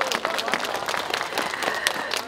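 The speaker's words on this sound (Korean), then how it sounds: "큰 박수 부탁드리겠습니다." Audience applauding at a ceremony marking a KTX train stop at Mulgeum Station, many individual claps distinct within a lively, uneven round of applause from a nearby crowd.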